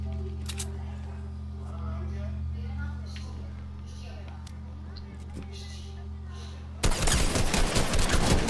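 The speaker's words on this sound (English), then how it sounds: "This guy's shooting at us." Enemy gunfire in an online shooter game, faint background shots early on, then a loud sustained burst of rapid fire near the end as a player talks.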